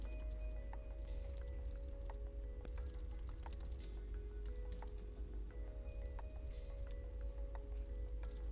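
Fingers tap steadily on a computer keyboard while a note is typed, a fast, even patter of close, light keystrokes against a low constant hum.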